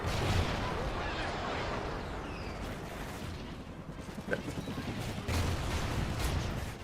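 A thrown grenade goes off in a Call of Duty: Ghosts match on PS3, a heavy, rumbling blast inside a constant wash of battle noise and gunfire, with a brief sharp crack partway through.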